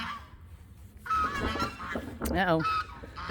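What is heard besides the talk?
geese honking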